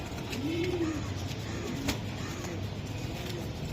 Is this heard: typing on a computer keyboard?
no